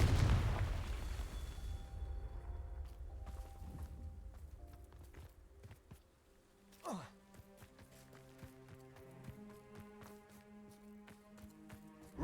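A loud fiery blast from a Confringo spell in the video game Hogwarts Legacy opens with a heavy boom that fades out. A second, shorter burst follows, among quiet footsteps and soft game music.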